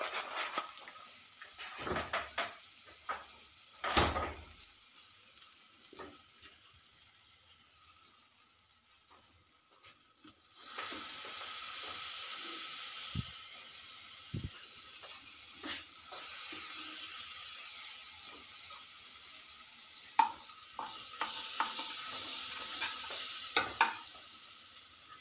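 Butter for a tempering for dal makhani sizzles and crackles steadily in a hot pan, with a few stirring scrapes and clinks at the start, no talking.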